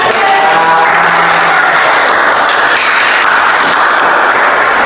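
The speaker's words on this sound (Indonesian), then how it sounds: "Oke, tepuk tangan" A classroom of students claps together in a dense, continuous burst of applause lasting several seconds, loud and close.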